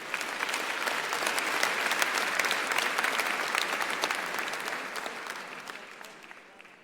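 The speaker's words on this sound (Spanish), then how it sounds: "Dale un aplauso al Señor." A church congregation claps steadily in sustained applause during a sermon, dense and even, tapering off toward the end.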